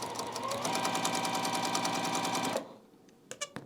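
A sewing machine stitches quilt block pieces in a fast, steady mechanical chatter for about two and a half seconds, then stops, leaving a few faint handling clicks.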